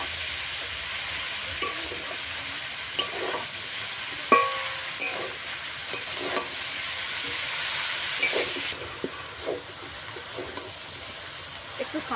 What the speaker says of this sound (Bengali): আবারও সব কিছু একসঙ্গে ভালো করে কষিয়ে দেবো